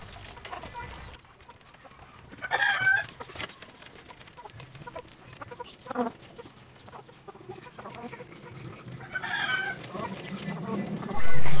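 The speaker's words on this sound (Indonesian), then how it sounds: "Jadi ayam-ayam pada diumbar dan makan secara bersama-sama." Free-range Bangkok and village chickens cluck and crow while feeding together in a group outdoors, with scattered bursts of clucking and a couple of louder crowing calls standing out above a quiet background.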